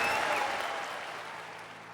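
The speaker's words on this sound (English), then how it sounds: "Lawmakers, the press, distinguished guests, perhaps everyone save Senator Robert La Follette, explode in cheers and applause." Applause and cheering from lawmakers, press and guests in the US Congress, a broad roar that starts loud and slowly fades over a couple of seconds.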